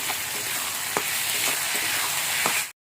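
Chopped medium tomatoes frying with onion and garlic, a loud close sizzle with a few stirring scrapes and clicks, cutting off sharply after about three seconds.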